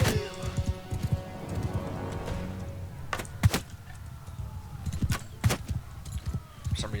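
Horse cavalry hooves clop through a Mount and Blade 2 battle, scattered thuds and clip-clops in irregular bursts, with a few sharper impacts and some background game noise.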